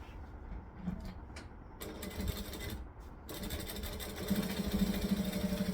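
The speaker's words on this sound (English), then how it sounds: "I'm going to top stitch this because I love top stitching" Sewing machine top stitching a bag: a steady mechanical whir and rapid needle chatter that stops and restarts, growing louder and more continuous toward the end, with no talking.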